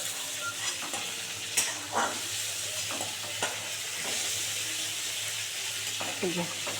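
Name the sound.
prawns frying in oil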